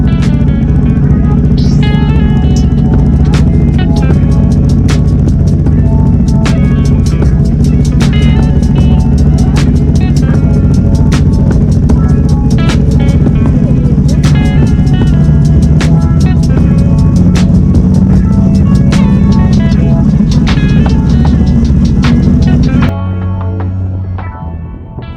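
Motorcycles, a Honda CB500X and a Husqvarna Svartpilen, ride a touring road in Scotland with a loud, steady engine and wind drone whose pitch slowly climbs, then drops to a quieter, rougher tone near the end.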